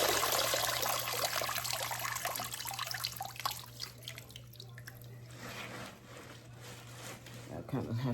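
Running water from a kitchen tap splashes and trickles over collard greens being rinsed in a colander, loud at first and then thinning into drips, with a steady low hum beneath.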